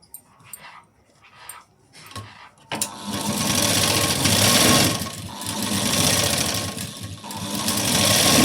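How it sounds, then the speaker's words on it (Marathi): A sewing machine starts up and runs steadily while stitching a four-tuck blouse, a loud, continuous mechanical whir following a few light clicks and short bursts. "इथे मी एक शिलाई दिली, बाकीच्या नंतर देऊन घेईन."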